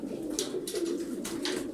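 Turkish tumbler pigeons of the Taklacı Dumanlı breed coo continuously at close range, with brief brighter rustles or wing flutters cutting in now and then; no one speaks.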